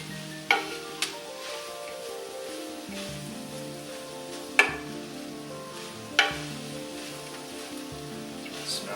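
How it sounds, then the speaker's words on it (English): Chili ingredients with jalapeños frying in a pan, a soft continuous sizzle under quiet background music, punctuated by a few sharp utensil clacks against the pan; no speech. "Things are cooking kind of fast now, so just want to keep stirring this around."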